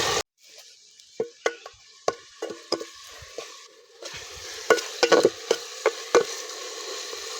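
Chopped onions sizzle in a hot pan with sharp scraping and stirring clicks, and the sizzle grows louder partway through.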